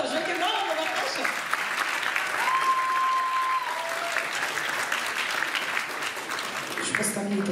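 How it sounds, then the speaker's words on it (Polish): An audience at a charity Christmas concert claps steadily and loudly for several seconds in a dense, even wash of applause that carries through to the end. "Bartosz, wielkie brawo, Bartosz!"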